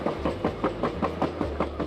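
Rhythmic clickety-clack of a passenger train rolling over rail joints near Denali, steady repeating beats over a low rumble, fairly close.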